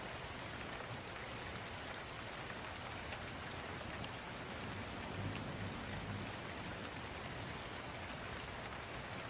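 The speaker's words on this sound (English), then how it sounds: "the rumble in the beginning from the thunder, that was crazy" Steady, dense rain falls at night and fills the whole stretch, with a faint low rumble of thunder rolling underneath near the middle.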